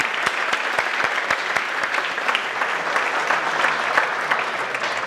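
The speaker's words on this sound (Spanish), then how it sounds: "Un aplauso para Yusí, señores," An audience at a political event in Esquel applauds. The clapping is steady and brisk, with sharp close claps standing out over a dense wash of hands and no talk.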